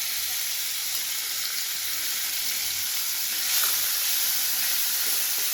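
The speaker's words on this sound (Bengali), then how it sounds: "এবার এটা গরম হয়ে গেলে এর মধ্যে আমি পেঁয়াজ কুচিটা দিয়ে দেব" Chopped onion hitting hot oil for palak paneer, a loud, continuous close-up sizzle and hiss that swells slightly partway through, with no talking.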